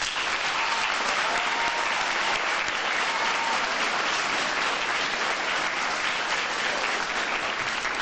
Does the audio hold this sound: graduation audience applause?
yes